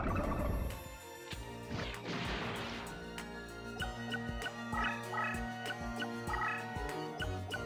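Monstrous bird monster from Yu-Gi-Oh! The Duelists of the Roses giving a harsh, gobbling screech over a crashing impact, set against looping synth game music with sharp percussive hits.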